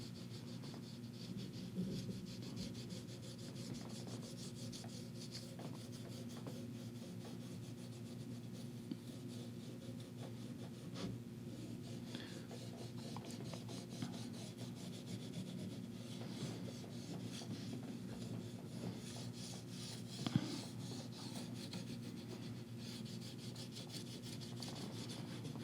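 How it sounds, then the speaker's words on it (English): A fingertip rubs and polishes gold leaf, producing a soft, continuous, faint scratchy rubbing close up with no talking. "I'm just going to get this leaf, start polishing this. Yeah, just with my finger"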